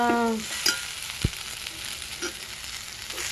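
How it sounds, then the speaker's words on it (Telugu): Amla pulihora rice being mixed slowly in a pan, a steady sizzle with a few light scrapes and a couple of utensil clinks, close and fairly loud. "అడుగుదాకా ఇలాగ నెమ్మదిగా కలిపేసుకోవాలి"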